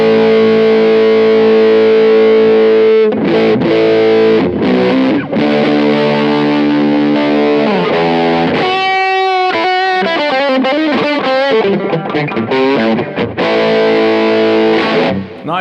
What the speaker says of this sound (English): let's try the cash cow distortion